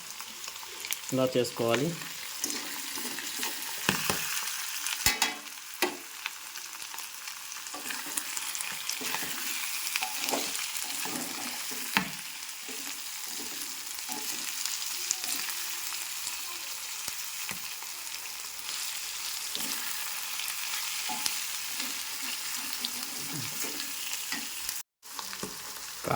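Boiled goat tripe sizzles and fries in hot oil in a pan, a continuous crackling hiss with occasional stirring scrapes, close and steady, while someone speaks briefly over it.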